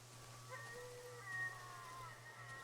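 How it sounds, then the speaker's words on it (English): Distant wailing animal cries, like screaming dogs, from the video game Darkwood, thin drawn-out howls rising and falling over a constant low hum, faint and far off. "That is the sound of screaming dogs or something."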